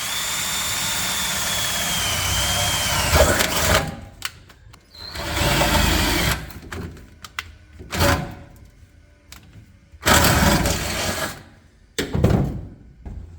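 Power drill boring a half-inch hole in metal, a close loud whine in long and short bursts with pauses between them, during work on an old vehicle.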